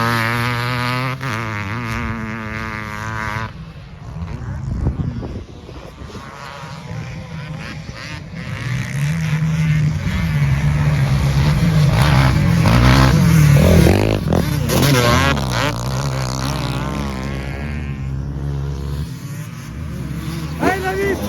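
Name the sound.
500 CR motorcycle engine revving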